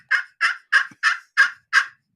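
A hand-operated turkey call imitates a wild turkey gobble: six loud, evenly spaced gobbling bursts in quick succession, close and alone with no talking.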